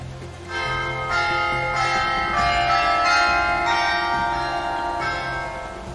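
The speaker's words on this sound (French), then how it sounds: "Carillon des 8 heures du matin." A church carillon tolls the 8 a.m. chime in the video game Far Cry 2, a series of resonant bell strikes about every half second, ringing steadily and fading slowly, heard alone.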